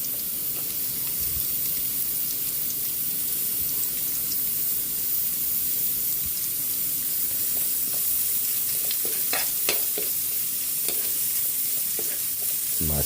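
Chopped onion tossed into a hot pan and stir-fried, a steady sizzle and frying hiss running throughout with occasional scraping stirs and small clinks, close by and fairly loud.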